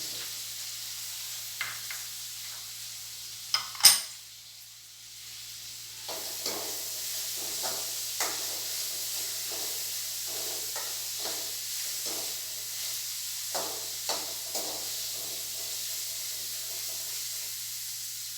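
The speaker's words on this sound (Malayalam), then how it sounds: "ചെറിയ ഉള്ളി ഇട്ട് ചെറിയ ഉള്ളിയും പച്ചമുളക് അരിഞ്ഞും" Shallots and green chilies fry for a chicken curry, a soft steady sizzle with a sharp clatter early on, then repeated light stirring scrapes in the pan, close by and without talking.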